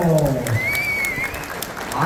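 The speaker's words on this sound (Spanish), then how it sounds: "la gente le está aplaudiendo a los dos equipos" Basketball fans at a championship tournament game clap for both teams, a crowd's applause running underneath a loud, close announcer's voice throughout.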